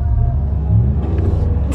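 A new pickup truck's engine rumbles steadily and loudly at close range, a deep, even drone with no clear rise in revs.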